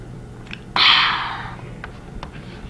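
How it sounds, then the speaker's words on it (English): A sip drunk from a mug, heard as one close, breathy slurp that swells quickly and trails off over about a second, followed by a couple of faint clicks in a quiet room. "it was me drinking out of my merch mug."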